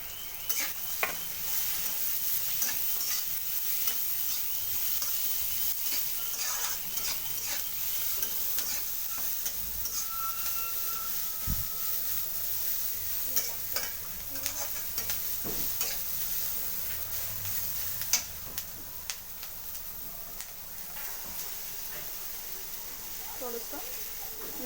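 Vegetables stir-frying in a pan over browned onion for Hakka noodles, a steady close sizzle with scattered stirring scrapes and clinks running throughout.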